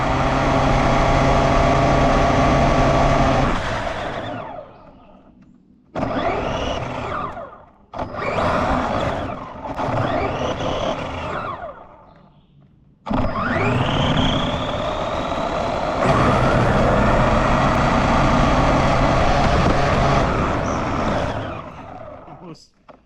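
Giant Hot Wheels RC Cybertruck speeding along, its electric motor whining loud and close in several bursts, rising and falling in pitch between pauses, with people talking at moments.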